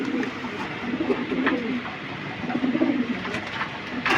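Soft, low pigeon coos repeat in short murmuring bursts over a steady background hum, with no voices.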